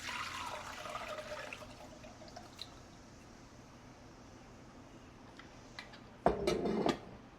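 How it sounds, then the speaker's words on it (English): Liquid plant decoction poured through a colander into a measuring bowl: a soft splashing pour at the start fading into a quiet trickle, then a brief louder splash and gurgle near the end. "I just put a colander over this measuring bowl here, and I just pour through."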